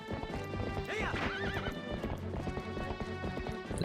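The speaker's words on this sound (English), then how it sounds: "The horse is really starting to sound like it's in pain." Epona, Link's horse in Zelda: Twilight Princess, neighs and whinnies in a rising, wavering cry over steady clip-clopping gallop hoofbeats, loud and continuous throughout with game music and effects beneath.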